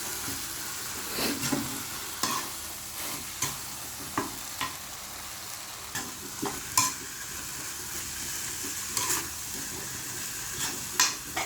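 Dry Korat noodles stir-fried in a pan, a steady sizzle and hiss under repeated scraping and tossing strokes at an irregular rhythm, close up with no voices.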